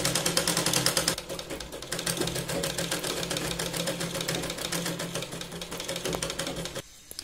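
Rapid, rhythmic chatter of a sewing machine double-stitching the sleeve of a Katori blouse to the shoulder, running continuously before stopping abruptly near the end.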